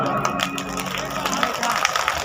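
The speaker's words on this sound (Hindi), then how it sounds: "तो आप दोनों हाथ उठा के ताली" A large crowd at a night music show in Kabirdham claps with hands raised, a loud, dense wash of clapping mixed with cheering and crowd noise.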